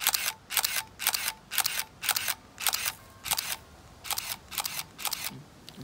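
A Minolta film camera, battered after a durability test, fires its shutter and mirror repeatedly, about eleven crisp, evenly spaced mechanical clacks heard up close with no talk.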